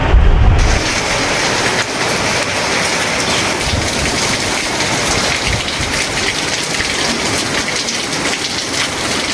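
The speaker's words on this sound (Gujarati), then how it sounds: "ધીમો વરસાદ પડ્યો હતો અને બજારોમાં પણ કીચડ થઈ હતી" Continuous heavy rain pouring down over Kodinar town, a dense steady hiss of drops hitting surfaces, loud and unbroken from start to finish.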